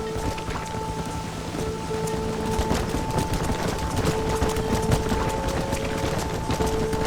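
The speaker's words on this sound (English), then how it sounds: "This storm came out of nowhere." Steady rain with rolling thunder from a storm in the video game Red Dead Redemption, a dense continuous downpour with low rumbles throughout, heard alone.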